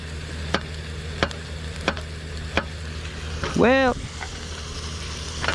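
Food cooks in a pot on a camping stove with a steady bubbling hiss and regular clicks. Someone speaks briefly partway through.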